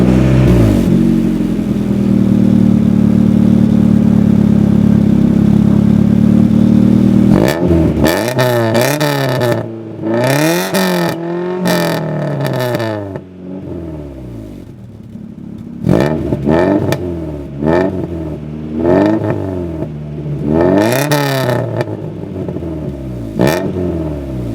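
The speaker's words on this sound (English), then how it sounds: "Time to see how she sounds." A B-swapped Honda Civic engine revs repeatedly through a new custom exhaust, starting from a steady idle before sharp rising and falling blips, loud and close, with no voices.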